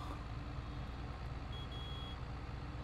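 In the Farming Simulator 22 video game, a vehicle gives a faint, brief reversing beep over a constant loud engine rumble.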